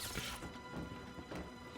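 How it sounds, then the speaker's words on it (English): An explosion in an animated Arcane episode crashes through, a loud rough burst with debris-like smashing continuing over nearly two seconds, no speech. "Big explosion?"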